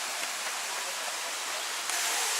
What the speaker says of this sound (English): Getting to the waterfall, nice clean water